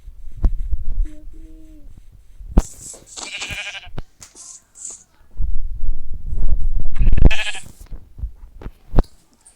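Synthetic sheep bleats from a game sound out twice, loud and close, with low rumbling thuds and background noise between them.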